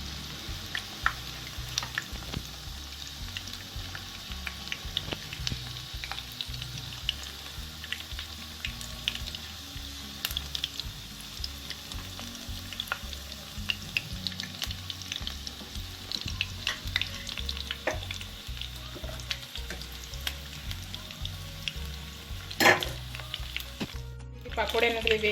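Chicken pakoda deep frying in oil, a continuous crackling sizzle with scattered pops and occasional stirring clinks, holding steady throughout at moderate level, close by.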